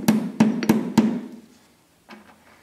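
Hammer taps deck screws into hard black gum wood: four sharp, evenly spaced knocks close by, then a pause and a few softer, fainter taps.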